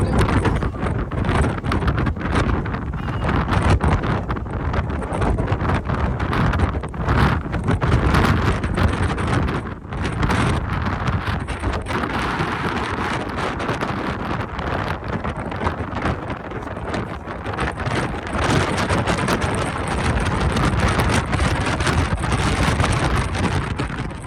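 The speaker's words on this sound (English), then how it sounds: "And now it's going to be windy." Steady roaring wind on the deck of the cruise ship Disney Treasure buffets the microphone with constant low rumble and gusty noise, loud and unbroken throughout.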